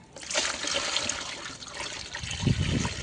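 Water pours into a pot for planting lotus in a steady splashing stream, close and fairly loud, with a heavier gurgle near the end.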